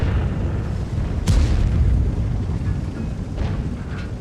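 A World of Tanks battle with a single deep tank cannon boom from the 705, close and heavy, over a constant rumbling engine and wind bed, with fainter distant shots after.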